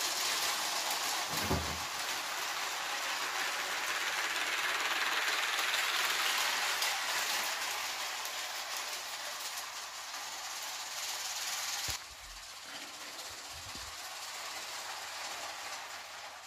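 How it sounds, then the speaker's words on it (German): A toy brick model train, the Lufthansa Airport Express ET403, runs on its track with a steady, quiet whirring rumble. A few soft knocks come near the start, and the sound drops suddenly late on. "So, das war der Lufthansa Airport Express ET403"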